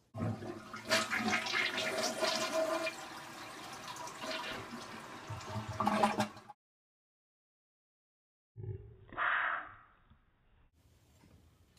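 A household toilet flushes with a loud rushing swirl of water for about six seconds and cuts off, then after a silence the tank refills with a gurgling, hissing trickle.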